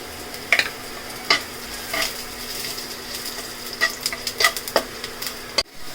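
Bay leaf tempering in hot oil for sajna tok dal, a steady close sizzle with scattered spoon clinks and scrapes against the pan, ending with a brief clatter, no talk.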